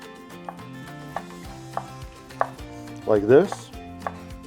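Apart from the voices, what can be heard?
chef's knife finely dicing ingredients for chimichurri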